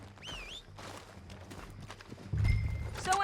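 Horse hooves clip-clop in a western video game, a run of close, rhythmic steps under faint game ambience, with a brief high whinny-like sound at the start and louder movement later.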